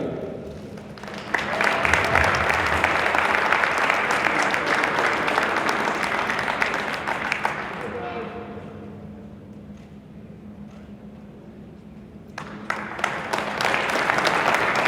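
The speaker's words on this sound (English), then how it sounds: "just a round of applause for the seniors from North Quincy High School" Sustained applause from a crowd at a high school boys basketball game, starting abruptly, easing to a quieter patch midway, then swelling again near the end.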